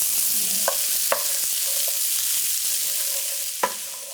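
Corn and peppers sautéing in a pan for butterbean succotash, a continuous hiss of frying broken by a few distinct scraping stir strokes, close and clear with no talking.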